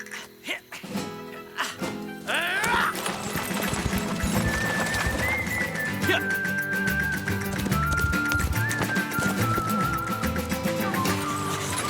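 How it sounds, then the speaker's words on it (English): Cartoon horse hooves clip-clop in a quick steady rhythm behind a cart, joined by a long wavering neigh, with brief bursts of voices and effects at the start. "Sounds like a horse back there behind us"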